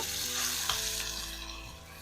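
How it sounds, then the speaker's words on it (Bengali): Vegetable stuffing fries in oil with white cumin over low heat, a continuous close sizzle and crackle with a faint stirring knock partway through, no voices. "এবার তেলের সঙ্গে লো আঁচে সুন্দর করে ভেজে নেব"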